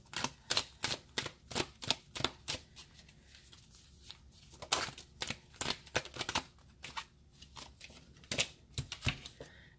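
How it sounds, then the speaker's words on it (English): A deck of tarot cards is shuffled hard on a desk, giving a quick run of sharp, crisp riffling snaps. The bursts come in irregular clusters, close and clear, with brief gaps between them. "She's like, you shuffle them cards aggressive."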